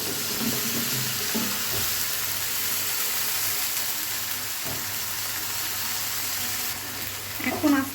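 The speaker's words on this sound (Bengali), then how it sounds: "মশলাটা যাতে পুড়ে না যায় একটু পানি দিয়ে দিব" Water poured into frying spice paste in a pan, giving a steady hissing sizzle throughout, with brief clinks of a utensil near the end, close and moderately loud.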